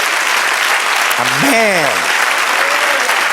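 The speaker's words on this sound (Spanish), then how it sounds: "Denle otro aplauso al Señor." A church congregation applauds loudly during a worship service, the clapping sustained throughout while a single voice calls out a drawn, rising-and-falling exclamation over the crowd.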